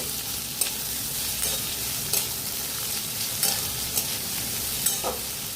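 Onions for veg noodles fry in a pan with a steady, close sizzle, broken every second or so by light scraping stir clicks.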